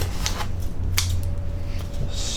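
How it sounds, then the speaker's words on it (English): A pair of scissors slices through material while a model railway track is being laid for a small shunting layout, giving a brief snipping sound over a steady background hum. "Slice that with a pair of scissors."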